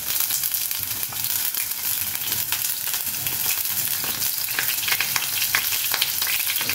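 Onions sizzling and frying in hot oil for chicken adobo, a steady dense crackle running throughout with sharper pops, close and loud with no talking.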